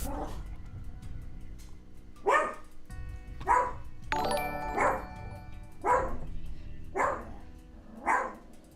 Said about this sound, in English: Oh, the dogs are freaking out.